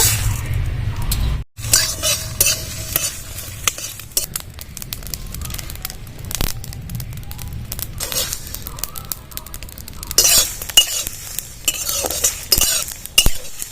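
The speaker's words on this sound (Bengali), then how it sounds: "সব মশলাগুলো এবার কড়াইতে ঢেলে দেব" Fenugreek, fennel, coriander, cumin, panch phoron and dried chillies dry-roasted in a pan for mango pickle, with continuous scraping and stirring and a soft crackle of toasting seeds.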